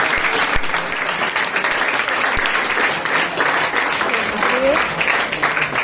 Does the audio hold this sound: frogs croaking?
no